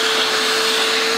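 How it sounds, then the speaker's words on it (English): A fan roars steadily and loudly as it pulls air out of a trash bag, a continuous close whooshing drone with a constant hum running underneath. "The fan is pushing air out, creating low pressure inside this system, right?"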